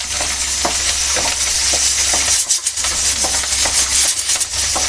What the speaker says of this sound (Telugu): నూనె కాగిందండి ఈ మిరపకాయలు వేసుకుందాము